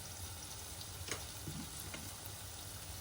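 Pumpkin (gummadikaya) pieces frying in a pan with coriander powder, giving a steady close-up sizzle with occasional stirring scrapes and faint ticks, no voices.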